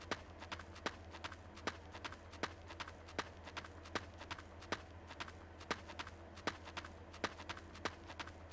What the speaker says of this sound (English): I do hope that they kind of decrease the noise on his footsteps, because he's like stomping the ground